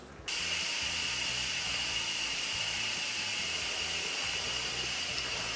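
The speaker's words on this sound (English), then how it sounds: "Once all that steam releases, that pin should drop." Steam vents in a steady, loud hiss from an Instant Pot during a quick release after chicken and dumplings were pressure cooked, starting abruptly and continuing unbroken with no talk.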